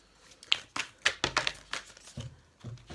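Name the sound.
shuffling tarot cards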